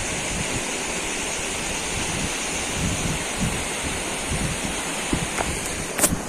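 The Ramganga river, swollen and muddy brown, rushes past in a steady, dense wash of flowing water, with light wind buffeting and no talking.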